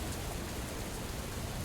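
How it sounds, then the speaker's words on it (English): Heavy rain in a truck-driving simulator game, a steady dense hiss of falling water that stays even and continuous, with no voices over it. "Love the rain, love it,"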